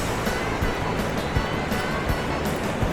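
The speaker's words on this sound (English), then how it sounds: "La Jolla Shores. Very popular beach." Surf washes steadily at crowded La Jolla Shores beach on an overcast day, a continuous broadband roar with soft breaking swells and faint wind.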